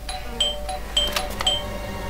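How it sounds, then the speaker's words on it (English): A chiming electronic doorbell rings in the detective video game Blues and Bullets, three bright repeated tones spaced about half a second apart over a low ambient hum. "I thought I should use the doorbell so I wouldn't startle you."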